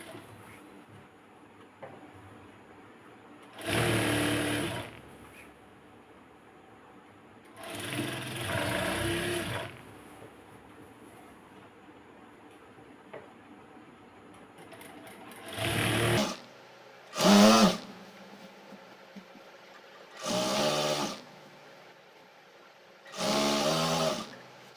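An electric sewing machine stitches palazzo pants in six separate whirring runs of a few seconds each, close and clear, with quiet gaps between them and no talking.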